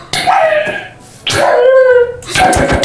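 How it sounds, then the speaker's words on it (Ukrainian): In the video game Minecraft, a dog lets out loud, close, tonal whining howls in two long drawn-out cries, followed by a shorter yelp. "собака."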